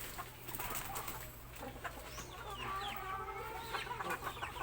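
Backyard pet chickens cluck softly and intermittently against a quiet outdoor background with a low steady hum, the calls faint and scattered rather than continuous.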